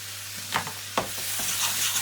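A thick Indian curry sauce fries in a pan as tomato puree is stirred in, giving a soft steady sizzle broken by a few distinct scraping strokes of the spoon, close by and without speech.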